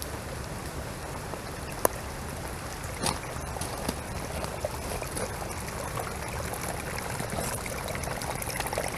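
Water flowing across pavement into a channel drain catch basin, a steady faint trickling and splashing stream with a few brief drips and knocks, continuous throughout with no talking.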